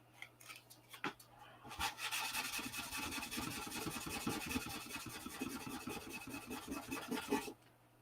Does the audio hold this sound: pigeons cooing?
no